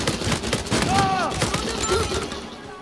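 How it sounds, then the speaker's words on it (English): Gunshots in Uncharted 4 multiplayer, a rapid series of sharp shots and thuds with game effects over a busy background, a voice talking briefly over them. "Where is he shooting from?"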